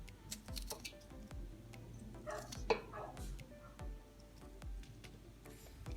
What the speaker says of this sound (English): last but not least, the hot peppers. I'm just gonna head and slice that up in